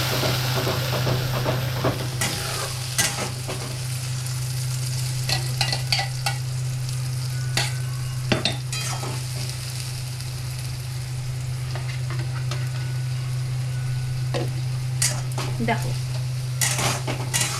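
Potatoes frying in a pan with a ground masala of tomato, ginger, cumin and a little cashew, giving a steady close sizzle and hiss broken by frequent scraping stirs of a spoon.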